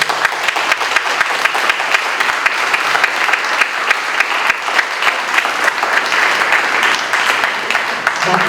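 A graduation ceremony crowd gives loud, sustained applause for parents, guardians and families, dense clapping continuing evenly throughout with a faint murmur of voices underneath.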